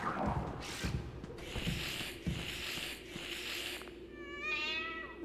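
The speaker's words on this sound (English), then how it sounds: "you scared the cat" A cat meows and caterwauls inside the Five Nights at Freddy's: Into the Pit video game, a drawn-out wavering cry at the end following several short thumps and clicks of game sound.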